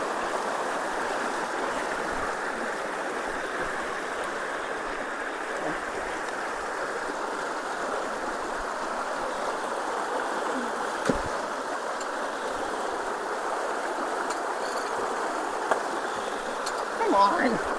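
Rainwater rushes through freshly unclogged concrete culverts in a steady, close, broad flowing roar that carries on without a break.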